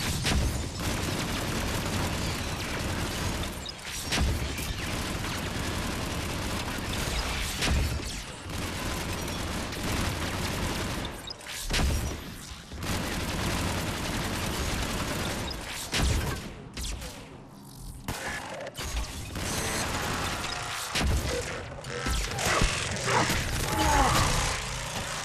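A turret firing in Mass Effect 3 multiplayer: sustained loud bursts of rapid mechanical gunfire, broken by brief gaps, with clattering impacts and booms running through the whole stretch and no voices.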